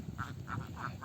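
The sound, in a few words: ducks quacking at duck farm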